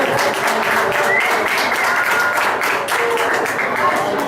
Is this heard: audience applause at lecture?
yes